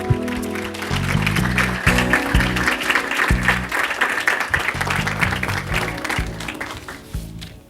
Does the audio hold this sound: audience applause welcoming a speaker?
yes